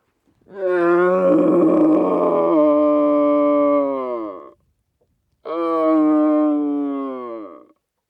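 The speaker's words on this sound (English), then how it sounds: "I think Frankie's just heard a roaring behind us" Two long, deep, harmonic roars from a red deer stag, each lasting several seconds with a short pause between, loud and close in open air.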